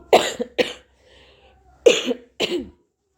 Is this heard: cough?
yes